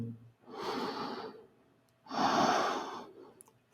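A person takes slow, deep breaths while resting in child's pose during a yoga recovery session, with two long airy exhales about a second apiece separated by a quiet pause.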